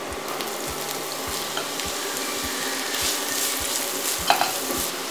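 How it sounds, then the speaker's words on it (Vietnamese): Hot oil sizzles steadily with a soft frying hiss as minced shallots fry, broken by regular faint taps of a utensil stirring the pan. "Khi dầu đã nóng, các bạn sẽ cho hành tím băm vào,"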